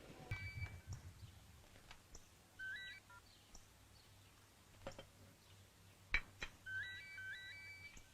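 A telephone rings in short electronic trilling bursts, two separate rings a few seconds apart, faint and thin against quiet background clicks and ambience, with no voices.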